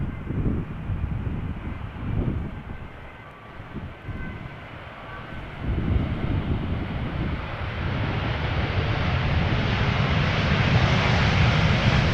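A brand-new Boeing 787 Dreamliner arrives at Amsterdam Schiphol in gusty crosswinds, its engine roar a steady broadband rumble that builds louder over about twelve seconds, mixed with wind buffeting on the microphone.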